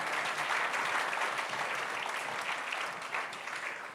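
A church congregation at a Sunday worship service claps steadily and densely for several seconds, a full close wash of applause that eases off slightly toward the end.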